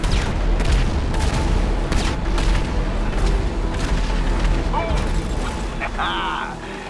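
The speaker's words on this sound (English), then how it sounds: "Airstrike coming in hot." Airstrike explosions pound in GTA V during the Cayo Perico Heist, a dense rolling barrage of booms and blasts close by, with brief mechanical beeps near the end.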